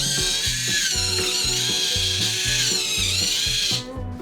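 A small model railway turntable motor whirs loudly with a rhythmic, grinding mechanical chatter, repeating steadily before cutting off near the end.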